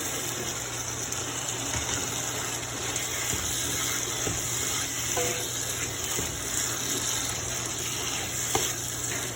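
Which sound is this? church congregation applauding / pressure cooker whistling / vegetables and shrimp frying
vegetables and shrimp frying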